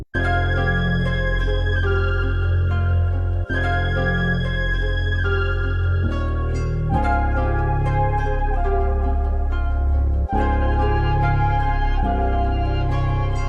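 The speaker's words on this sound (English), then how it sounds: "So maybe for a bass sound, we can take another one shot." Deep, sustained synth bass notes change pitch every few seconds, loud and continuous, with bright harmonic overtones and no voices.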